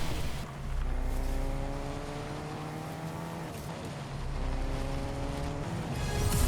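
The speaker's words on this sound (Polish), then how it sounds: "Pojeżdżę sobie autem." Engine of a car driven in the video game Fortnite, a steady droning hum with rising and falling pitch sweeps as it speeds up and shifts, continuous and fairly loud with no talk.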